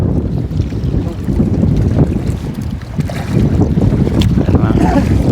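Strong wind gusts roar across the open sea around a small fishing boat, with heavy buffeting rumble and water wash. A voice is heard faintly beneath the wind.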